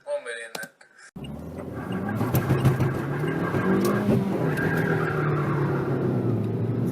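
A car skids on a road, its tyre noise and engine roar rising after a brief quiet start and holding loud and close to the end, with voices talking over it.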